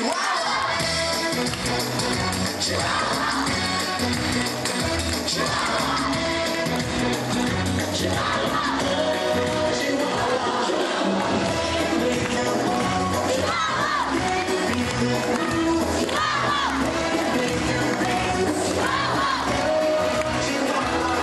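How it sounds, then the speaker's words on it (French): A crowd at a local summer event in Le Cateau cheers participants on, a dense, continuous wall of shouting, whooping and clapping that holds loud and steady throughout. "Allez, on les encourage."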